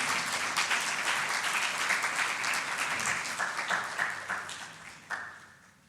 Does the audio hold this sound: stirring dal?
no